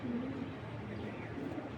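A tiger grizzle racing pigeon gives a soft, low cooing call near at hand, one short drawn-out coo followed by quieter murmurs, with no talking.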